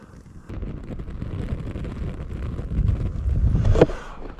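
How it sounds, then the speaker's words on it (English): Wind blowing outdoors while a charcoal grill is lit, a steady low rumbling gust buffeting the microphone, building louder toward the end with no speech. "Well, the wind is definitely helping."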